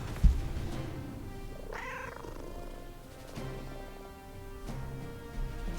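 A single cat meow from the video game Maliki Poison of the Past rises and falls, clear and close, over a steady low hum with faint clicks.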